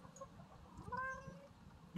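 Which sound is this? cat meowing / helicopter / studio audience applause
cat meowing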